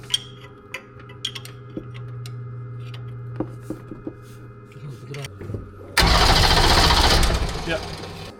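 A rebuilt Mercedes OM617 diesel engine in a Unimog 404 is cranked, with a faint ticking hum and light clicks before a loud, sustained churning roar bursts in and then eases slightly; voices talk in the background.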